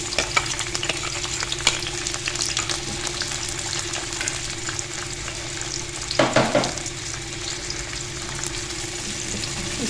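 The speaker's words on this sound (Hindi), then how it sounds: "इसको हमने थोड़ा सा सौते करना है ताकि इसका जो कच्चापन है ना ये ख़त्म हो जाए।" A small chopped onion sizzles steadily in about three tablespoons of oil in a pan, a continuous close frying hiss with a brief louder stir or scrape partway through, and no voices.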